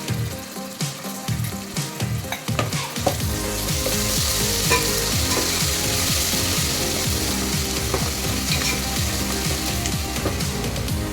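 Ginger garlic paste frying in a pan for bagara rice: a few clanks at first, then a loud, steady, close sizzle that continues to the end.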